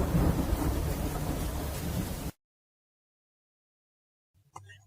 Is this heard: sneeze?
no